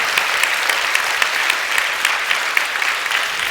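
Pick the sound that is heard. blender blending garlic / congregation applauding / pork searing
congregation applauding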